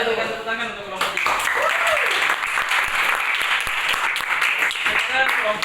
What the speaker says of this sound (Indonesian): Ada berikan tepuk tangan untuk kelompok 3.